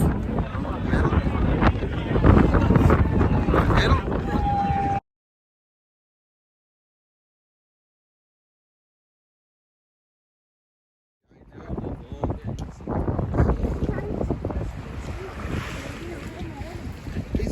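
Strong wind on a hilltop roars and buffets the microphone, with a voice talking under it, then a few seconds of dead silence before the gusting wind returns.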